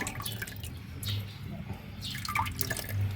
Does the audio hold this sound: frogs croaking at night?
no